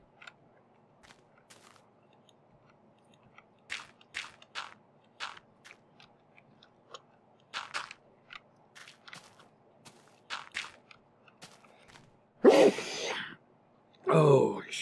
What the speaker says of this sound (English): But the sneeze is real